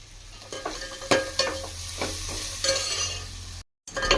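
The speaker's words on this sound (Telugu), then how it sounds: "చూడండి ఫ్రెండ్స్, ఆనియన్ ఫ్రై అవుతున్నాయి" Onions sizzle and hiss in hot oil while a spoon stirs and scrapes the pan several times, up close, while cooking Hyderabadi dalcha.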